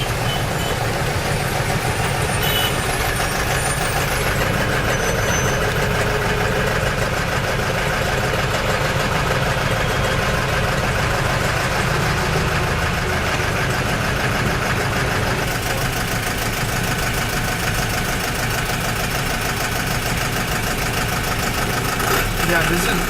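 Road traffic with car and truck engines idling makes a dense, continuous rumble close by. Faint reversing beeps cut in, and voices murmur under the engine noise.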